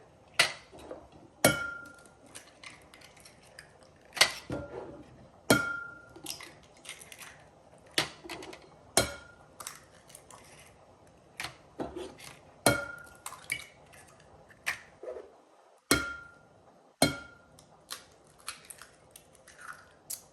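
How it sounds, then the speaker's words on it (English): Six large brown eggs are cracked one by one against a bowl, each crack giving a sharp tap or clink, spread at uneven intervals with quiet shell handling in between. "So we've got 6 large brown eggs. You can use brown, white, whatever you use. We're just gonna crack them in the bowl here."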